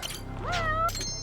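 A cat meows in the video game Judgment, giving one clear, close, drawn-out meow that rises and then holds, followed by a brief further cry.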